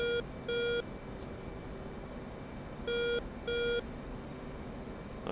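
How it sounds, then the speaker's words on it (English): Loud electronic beeps from an aircraft carrier in the DCS flight simulator game, sounding in two pairs of short tones, each pair separated by a pause, over a steady low engine hum. "And it's an annoying beep"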